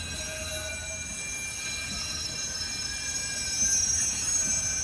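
A Toronto subway train rolls past with a steady rumble and thin, high metallic wheel squeals ringing over it, swelling slightly near the end.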